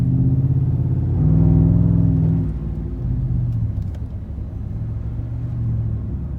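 Car fitted with a Flowmaster Outlaw exhaust heard from inside the cab during gentle driving: a steady low engine drone and rumble that swells briefly as it pulls away, then settles, with no talking.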